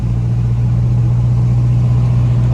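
A 1979 square-body truck with a 454 big-block engine roars loud and close in a steady, deep rumble, held throughout without pause.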